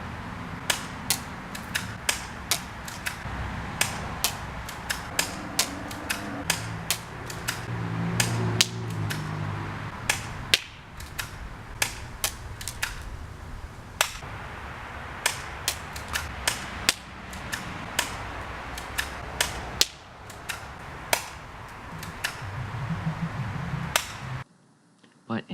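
A Taurus Millenium PT-111 airsoft pistol fires at a target, dozens of sharp, dry snaps spaced a second or two apart, close and loud over faint room noise and a few low background murmurs.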